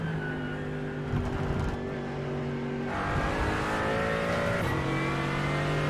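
A GT race car in iRacing at Brands Hatch holds a loud, close engine drone, its pitch shifting as it changes gear and revs up again, with a brief tyre squeal partway through.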